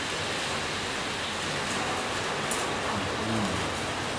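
Steady rain falls outdoors during a home cooking session in rural western Vietnam, a continuous soft broadband hiss with occasional faint patters and drips, even in level throughout with no talking.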